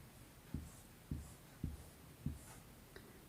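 Chinese characters being written stroke by stroke, about five short distinct taps or scratches spaced evenly and close, with quiet between them and no voices.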